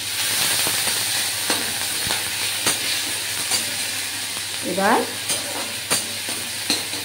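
Onion paste frying in oil over cumin seeds in a pan for a Bengali village prawn dish, a steady close sizzle broken by repeated scraping stirs, with a brief spoken word near the start.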